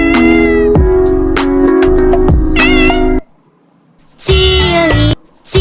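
Repeated cat meows in quick succession, loud and close, followed by a pause and then another pair of meows.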